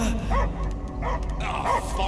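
Dog barking during a Guardians of the Galaxy game scene, repeated yips and whimpering barks in a steady rhythm, loud and close, mixed with character dialogue and game sound.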